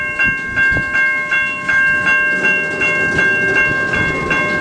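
A CN freight train pulls away from a stop at the Mill Street railroad crossing in Ecorse, Michigan, wheels clacking in a steady rhythm under the constant ringing tones of the crossing bell, loud and close.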